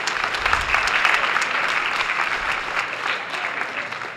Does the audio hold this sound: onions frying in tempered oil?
no